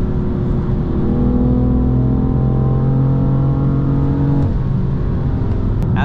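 A 6-speed manual BMW M4 Competition accelerates hard on a canyon road, its engine droning loudly and steadily with rising, harmonic-rich tone before a brief dip near the end, heard from inside the cabin with no talk.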